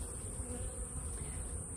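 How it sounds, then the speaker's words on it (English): Many honeybees hum around a crowded hive in a steady, faint buzzing drone, a continuous swarm sound with no talking. "there's way too many bees"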